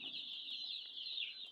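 Egyptian (Mishri) breed chicks on a farm in Manikganj, a continuous high-pitched chorus of peeping, fairly faint and unbroken for the short span.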